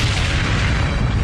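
Airliner explosion on the runway at Tenerife airport, a loud, dense rumbling boom that fills the whole short burst with deep, roaring noise.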